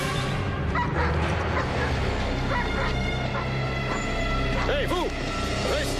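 A dog barks and yips repeatedly in a dramatic TV series scene, the sounds mixed under talk and a loud continuous soundtrack.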